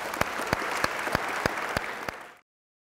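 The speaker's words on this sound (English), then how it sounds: "so give yourselves a round of applause" Players at a basketball tryout applaud one another, steady clapping from a group with a few sharp, louder claps standing out rhythmically, then cutting off abruptly into silence.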